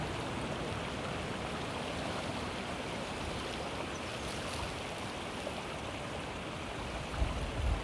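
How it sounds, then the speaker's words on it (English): Steady rushing of flowing water, continuous and fairly close, with a faint low rumble near the end. "taking your attention to the sound of the water"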